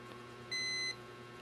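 A digital multimeter in buzzer mode gives one clear electronic beep, just under half a second long, while testing an electrolytic capacitor. The tone is quiet and steady against faint background hiss.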